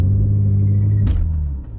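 BMW G80 M3 attempting a launch-control start in first gear, a loud steady low engine rumble with a brief sharp burst of tire-spin noise midway before the drone eases.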